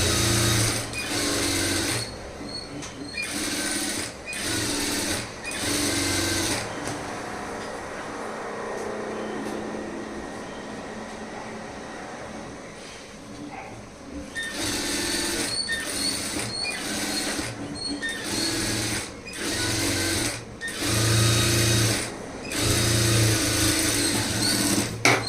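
A sewing machine stitches a lined blouse in runs of rapid mechanical whirring, loud and close, starting and stopping in bursts with a quieter stretch in the middle and no voices.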